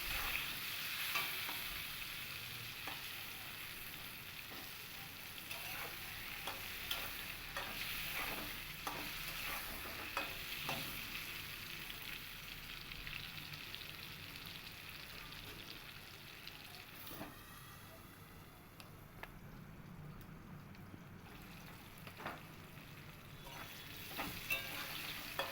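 Pointed gourd (potol) frying in a pan with salt and turmeric, a soft continuous sizzle broken by repeated spatula stirs and scrapes, fairly quiet and steady throughout.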